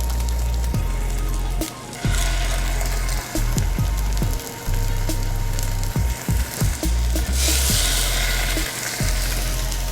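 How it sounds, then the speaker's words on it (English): Salmon sears in a sauté pan, a loud sustained sizzle broken by sharp crackles and pops and a few clunks, heard close and alone without talk. "that's the sound you want to hear when we put the salmon into the pan"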